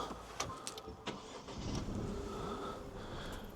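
A 2024 Renault Captur's engine is started from inside the car at night, with a short mechanical crank and click before a low idle settles in.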